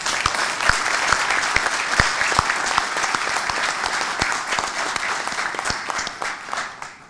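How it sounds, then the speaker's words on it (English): An audience at a symposium on Paraguay–South Korea relations applauds its Korean guests with loud, sustained clapping and sharp individual claps standing out, tapering off toward the end. "could we give our Korean guests a great round of applause?"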